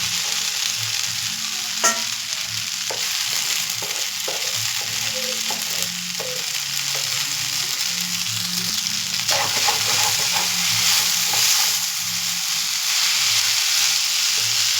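Veg hakka noodles stir-frying on a small tawa give a loud, continuous close sizzle and hiss, broken by irregular scraping and tapping of a spatula as the noodles are tossed, with no voices.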